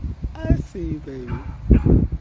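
A puppy yips, whimpers and gives short barks in a few close bursts, mixed in with a person talking nearby.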